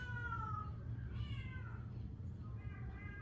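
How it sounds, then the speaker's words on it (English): A pet cat meows repeatedly indoors, several drawn-out, wavering meows close by over a low background hum. "That is my cat and she's acting ridiculous."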